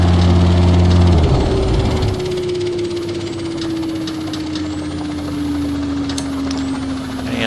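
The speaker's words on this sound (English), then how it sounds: "And I'm going to stop the rotors." A helicopter shutting down during a San Francisco Bay tour flight: a loud engine note drops away after about a second, leaving a steady whine that slowly falls in pitch over a constant roar as the rotors wind down.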